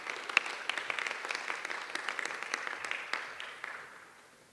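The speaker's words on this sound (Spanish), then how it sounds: "para el cual pedimos fuertes aplausos" Audience applause at an inter-faculty debate between psychology and medicine, a few seconds of steady clapping from a modest crowd that gradually fades out.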